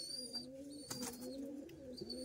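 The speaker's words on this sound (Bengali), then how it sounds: "একটি পায়রা, একটি মেয়ে পায়রা" A female pigeon held in hand coos softly in repeated low, rounded calls, close and fairly quiet, with a few sharp higher chirps mixed in.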